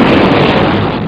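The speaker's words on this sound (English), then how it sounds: "Aircraft actually usually produce two booms." Sonic boom from a supersonic aircraft breaking the sound barrier: a loud, sustained broadband rumbling blast filling the whole second, heard alone with no voices.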